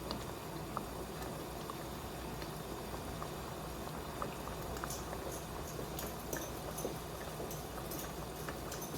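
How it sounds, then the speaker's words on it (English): Pizza sauce with Italian seasoning coming to a boil in a pot, a quiet continuous bubbling with small irregular pops and blips, close and steady, with no talking. "now that it's starting to boil, I'm going to turn it down and I'm just going to let it simmer"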